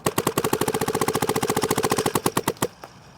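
Dye DSR Pro paintball marker firing a rapid continuous string of about forty sharp pops in under three seconds, loud and close, then stopping abruptly, with no talking.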